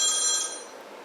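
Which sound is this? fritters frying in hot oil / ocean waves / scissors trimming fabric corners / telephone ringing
telephone ringing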